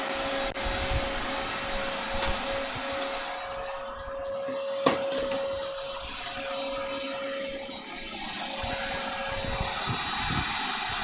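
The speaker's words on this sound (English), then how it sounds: "I should probably vacuum in here." A vacuum cleaner runs continuously in a garage, a steady, loud motor roar and whine with a faint bump partway through.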